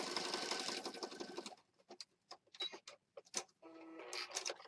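A sewing machine stitches a fabric pocket for a junk journal, a fast rattling run for over a second followed by short, separate bursts of stitching and clicks, close and fairly quiet.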